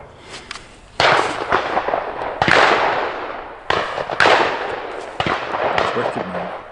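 Bolt-action rifles, an M44 and a K98, fire at an outdoor range: several loud, sharp cracks spaced a second or so apart, each with a long rolling echo tail, with faint voices between shots.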